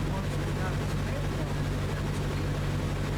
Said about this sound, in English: You might be able to hear the engine slowing down there.